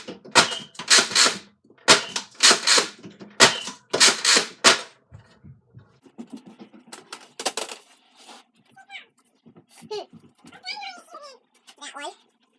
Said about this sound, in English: Firing the Twinshock in burst, split fire, and slam fire.